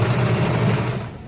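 Domestic sewing machine running steadily while stitching a folded frill edge on a three-layer frock, a continuous close whir with a fast mechanical rhythm and no talking.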